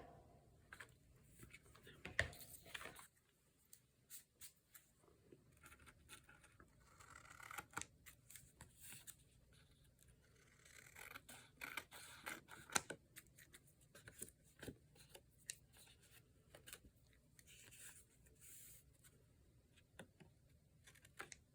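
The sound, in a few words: scissors cutting away excess napkin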